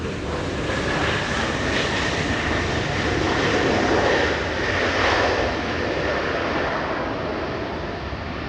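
A Delta Airbus A220 jet arriving from San Francisco at Los Angeles International Airport, a steady, loud engine roar with broadband rumble and a whining tone, swelling slightly mid-pass and holding throughout with no talk.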